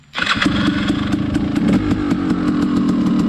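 A 2016 KTM 300 Enduro two-stroke dirt bike engine revs steadily and loudly up close, with a continuous buzzing drone and rapid pulsing throttle variations throughout.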